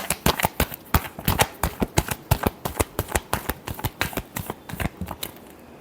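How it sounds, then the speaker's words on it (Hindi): A deck of cards is shuffled by hand for a card reading, producing a quick series of sharp riffling snaps and slaps in an even rhythm, loud and close, with no talking. "Last shuffle."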